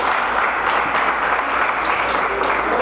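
A church congregation applauds its visitors, a loud, continuous wash of many hands clapping at close range with little talk.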